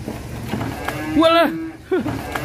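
Agitated cattle bellowing as they are loaded onto a truck, two loud, strained moos close by over a low background hum.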